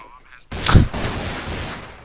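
A sharp gunshot burst with a lingering rumble rings out in a Counter-Strike match on the de_train map, mixed into esports game audio.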